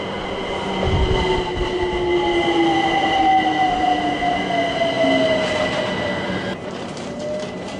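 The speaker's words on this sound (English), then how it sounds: "I expected more from the London Overground. Here's our train." A London Overground train rolls in nearby, steel wheels squealing with drawn-out descending whines over a rumbling roar as it slows along the platform.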